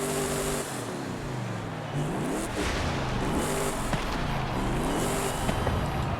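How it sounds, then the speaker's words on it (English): A 2020 Toyota Tundra TRD Pro engine in Forza Horizon 5 revs in several repeated rising and falling sweeps over a steady idle, loud and close under a bright constant hiss. "let's hear this engine"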